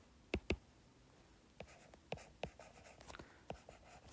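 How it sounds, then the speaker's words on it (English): Handwriting notes on a math worksheet, a few sharp close taps and short scratchy pen strokes in an irregular rhythm, faint and with no talk. "I'm going to write that acute"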